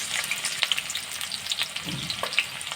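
Onions for a pabda fish curry fry in hot oil, a crackling close sizzle with small pops and a brief stir partway through, no voices over it.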